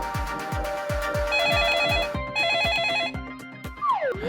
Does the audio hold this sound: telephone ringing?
yes